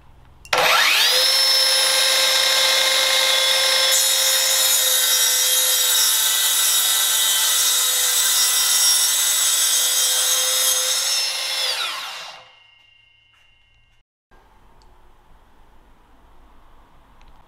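A Metabo KT 18 LTX 66 BL cordless plunge saw spins up to a loud, steady high whine while cutting a melamine panel, holding for about eleven seconds before winding down into near quiet.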